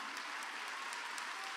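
Congregation clapping during a church service, a brief steady wash of many hands with faint rhythmic accents, sounding slightly distant and unaccompanied by voices.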